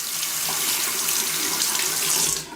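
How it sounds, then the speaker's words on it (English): A razor rinsed under a running tap, with a loud continuous splash of water that stays steady before cutting off sharply at the end. "I'm going to go ahead and loosen it by just turning the handle and running it under some water."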